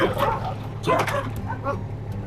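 A working cattle dog on a Texas ranch gives a few close, quick barks and yips in succession, with steady background hum and no clear talk.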